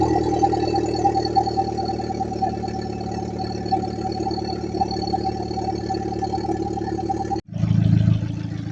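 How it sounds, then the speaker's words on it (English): A car engine with an aftermarket exhaust idles with a deep, steady exhaust burble, cuts briefly near the end, then returns with a louder low rumble. "And this was after the new exhaust."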